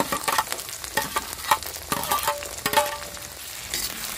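Fresh green peas stir-fried in a pan for mixed vegetable sabzi, with a close sizzle broken by repeated rhythmic spatula scrapes and clinks against the pan, and no talking.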